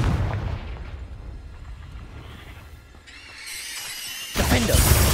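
In the Hogwarts Legacy video game, a Confringo spell detonates with a heavy booming explosion, followed by a rumbling tail, a shift in ambience and another loud burst near the end, with no talk.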